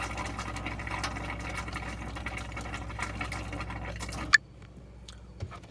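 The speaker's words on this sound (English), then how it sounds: "the water's almost completely out of the tank. It's spitting and sputtering." A boat's freshwater system spitting and sputtering as its tank runs nearly empty, an irregular gurgling crackle of air and water that stops abruptly near the end, leaving a couple of faint drips.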